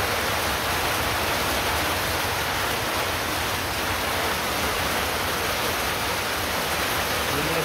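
Steady rain falls around a rural home where harvested rice lies out, a dense, even hiss that holds unchanged throughout with no voices.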